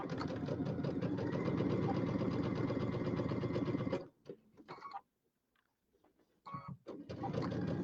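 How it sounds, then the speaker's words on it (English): A sewing machine stitching a quilt block runs in a steady rapid whir for about four seconds, stops, then gives short bursts before resuming; close and clear, no talking. "we're going to sew on this block"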